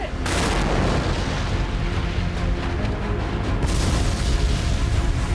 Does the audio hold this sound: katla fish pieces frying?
no